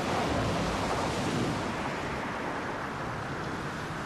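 Ocean waves surge against a fishing boat at sea, a loud continuous rushing wash mixed with wind buffeting, swelling at first then easing slightly, with no voices.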